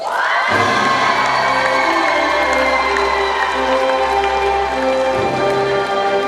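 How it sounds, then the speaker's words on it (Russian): At a university beauty pageant award ceremony, a large audience cheers, shouts and applauds a winner loudly and continuously. Sustained tonal music plays beneath the roaring crowd. "Ваши аплодисменты, друзья!"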